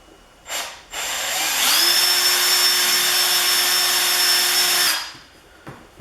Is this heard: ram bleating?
no